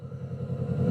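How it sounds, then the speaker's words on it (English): Kawasaki Vulcan S motorcycle engine idling steadily, a low, even throbbing pulse that holds close and constant with a slight swell toward the end. "you can hear the idling revs."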